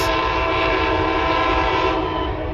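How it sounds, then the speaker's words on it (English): An Amtrak train passes Hammond station at night, loud and close, with a sustained horn blast over the rumbling roll of the cars throughout. "A late night capture at Hammond Amtrak Station."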